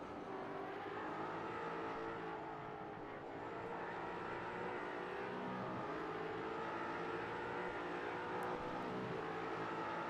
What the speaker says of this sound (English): As their Mustang V8s power their way around the beautiful street circuit just outside Detroit, Michigan.